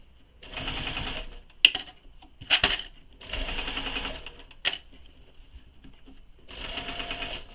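A sewing machine stitches a Wild Rose shoulder bag from Emmaline Bags in four separate runs of rapid, rattling whirring. Each run lasts about a second, with short pauses and a few sharp clicks between runs.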